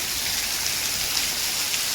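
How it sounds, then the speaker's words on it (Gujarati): Steady rain pouring down, a dense, even hiss of drops hitting surfaces with no voices, constant and fairly close throughout. "અમારે અત્યારે વરસાદ ચાલુ થઈ ગયો છે અને જો આટલો બધો વરસાદ આવે છે"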